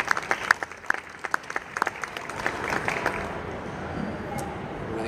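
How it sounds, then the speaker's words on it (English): Audience applause for conference finalists at the GATS 2018 trucking show, beginning as scattered sharp claps and swelling into a steady, dense round of clapping from a crowd in a hall. "So let's give them a round of applause."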